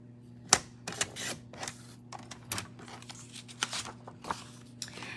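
Paper cutter slicing card paper, a series of sharp close clicks, scrapes and crisp slicing strokes at irregular intervals over a faint steady hum.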